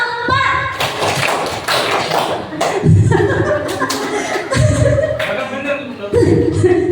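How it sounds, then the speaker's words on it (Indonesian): Rhythmic group clapping game in a positive-culture classroom session, with adults clapping in counted patterns of quick claps and pauses, bursts of chuckling and a voice leading between rounds. "Coba tepuk 1, tepuk 2, tepuk 3, tepuk 4."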